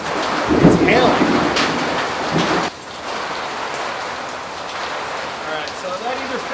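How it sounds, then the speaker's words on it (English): Hail and heavy rain pound outdoors while thunder rumbles loudly, the hiss of falling ice dense and close; speech-like sounds mix in early before the storm settles into a steady downpour. "It's hailing."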